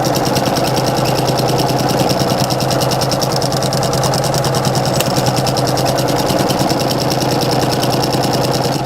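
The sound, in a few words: sewing machine back stitching over ribbons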